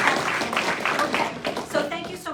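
A few scattered claps from a room of firefighters at a workplace-safety talk, sparse and uneven, mixed with voices.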